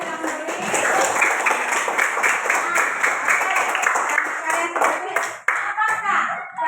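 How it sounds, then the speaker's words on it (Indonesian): A class of students claps hands together in a classroom, a dense steady patter of many hands close by, with some voices mixed in. "Tepuk tangan dulu, kalian sudah menulis."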